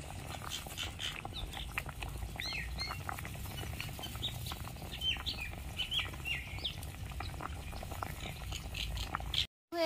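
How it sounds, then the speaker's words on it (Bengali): Potatoes boil in a pot with a steady bubbling patter and soft gurgling, a continuous close simmer with no voices, cutting out abruptly near the end. "এবার আমি ভালো করে সেদ্ধ করে নিচ্ছি।"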